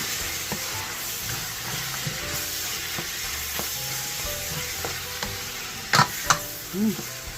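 Pork butt frying in a pan for dinuguan, a steady broad sizzle with scattered utensil scrapes and taps, close and moderately loud, plus a few sharper clatters near the end.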